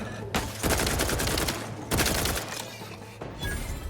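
Rapid bursts of automatic gunfire in The Outer Worlds 2 video game, loud dense volleys in two long runs separated by a short pause, with a third burst starting near the end.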